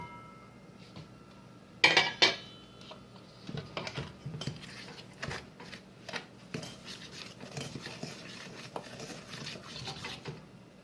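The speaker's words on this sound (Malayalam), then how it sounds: "ഈ മൈദയും പഞ്ചസാരയും ബട്ടറും കൂടെ ഇട്ട് ആദ്യം മിക്സ് ചെയ്യണം." Flour, sugar and butter worked together in a bowl with a utensil for an orange crumb cake, producing scattered scraping and clinking taps, one sharper clatter early on, then soft irregular strokes without talk.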